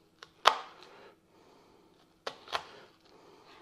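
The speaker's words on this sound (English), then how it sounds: "You're gonna wanna cut in deep, almost to the root, right? Thin slices." A knife slices thin cuts into a shallot on a cutting board, giving a few sharp, close taps and crisp cuts with quiet pauses between them.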